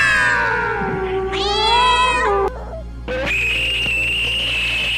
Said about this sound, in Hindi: और वहीं पर मौजूद है वो भयानक काली बिल्ली।